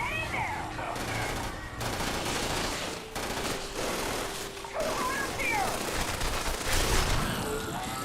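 Rapid bursts of sci-fi gunfire from Starfield, repeated volleys of close, loud shots cutting in and out over several seconds amid game ambience.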